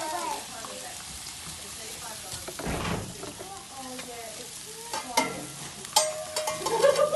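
Sausages cook under a lid on an Australian barbecue grill, a steady close sizzling hiss like light rain. Scattered pops and clicks build toward the end, and a voice speaks faintly over it.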